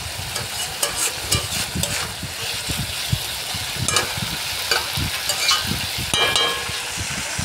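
Fish heads and flattened rice are stirred in a pan with a steady low sizzle and repeated scraping, thudding strokes of a spatula in an uneven rhythm.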